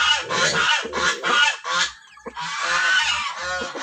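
Two breeder turkeys on a small backyard farm give loud, close, raspy honking calls in several long repeated bursts, with a brief pause in the middle and no talking.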